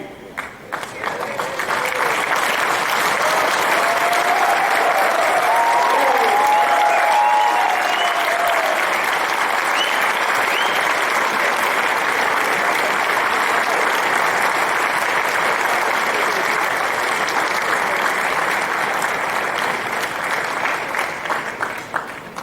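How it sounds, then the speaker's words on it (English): Graduates and their families at a graduation ceremony clap loudly on their feet, a long, sustained roar of applause that swells early and holds full for over twenty seconds before thinning slightly at the end. "look at your parents, look at your family, and again clap very, very loudly"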